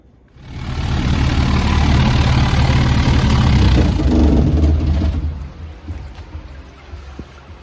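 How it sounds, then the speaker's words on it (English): A tumbler machine churns a 1935 Ford intake in media, starting up into a steady, dense rumbling roar close by for several seconds before winding down to a quieter hum. "And we're gonna get this thing tumbling and see what happens."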